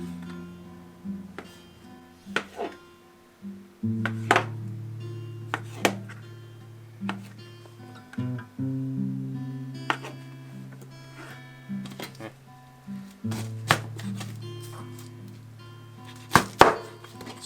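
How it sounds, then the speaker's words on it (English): A knife halves tomatoes on a cutting board for habanero salsa, giving a run of crisp, close chopping taps at an uneven pace. A low sustained tone hums beneath them. "I'm just going to take these, slice them right down in half."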